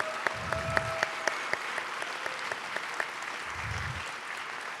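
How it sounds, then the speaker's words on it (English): Steady crowd applause for graduates at a Latino graduation celebration, broad clapping with a few sharp individual claps standing out, moderately distant, plus a couple of low rumbling bursts. "Let's give another round of applause to our graduates."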